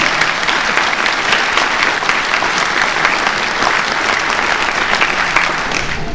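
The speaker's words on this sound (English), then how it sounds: "I think they deserve a round of applause" A political party audience applauds at a speech, a loud, dense, sustained round of clapping from a large crowd lasting several seconds.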